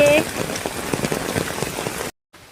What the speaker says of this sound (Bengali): দেখো গাইস কেমন কি বৃষ্টি হচ্ছে, দেখো।